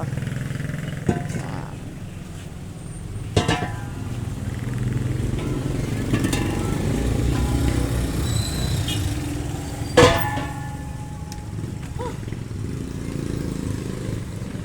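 A newly bought motorcycle engine idles steadily nearby with a low rumble, broken by a few sharp knocks and clanks, while voices talk faintly in the background.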